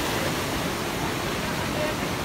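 Rain-swollen mountain river in Uttarakhand rushing downhill, a steady, loud, broadband roar of flowing water that fills the scene without pause.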